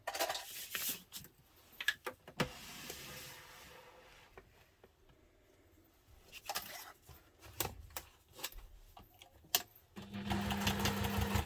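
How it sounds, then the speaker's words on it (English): A sewing machine runs basting stitches with a small seam allowance along the sides of a messenger diaper bag, in several short, close bursts separated by quiet handling pauses, with one longer steady run at the end. "Now I'm going to take it to the machine and we're going to stitch along here, here and here on both of them"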